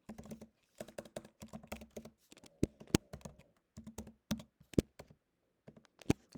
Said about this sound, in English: I type in sort index, and I rerun that.